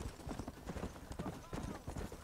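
Horse hooves clopping in a hunt scene from the Red Dead Redemption video game, a quiet irregular patter of hoofbeats with low background noise.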